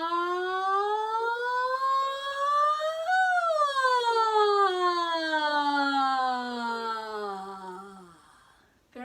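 A voice imitates a siren, gliding up in pitch, then slowly sliding back down in one long sustained wail.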